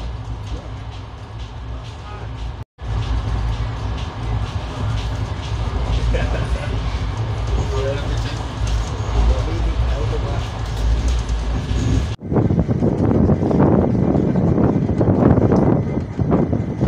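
The Tapti Ganga Express pulls out of a station on its Mau to Varanasi run, with a steady, loud rumble of rolling carriages and wind noise throughout. The sound briefly cuts out and grows rougher near the end, with voices faintly mixed in.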